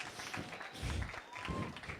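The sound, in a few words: audience applause welcoming cartoonists at a drawing battle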